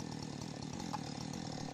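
A chainsaw cuts through a standing tree during felling, a close, loud, steady buzzing drone that holds without a break for the whole short stretch.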